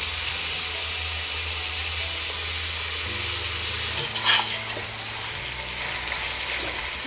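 Chopped brinjal goes into a pot of frying chicken biryani, bringing a steady sizzle and a burst of stirring and scraping midway, then lighter frying noise, heard close with no talking.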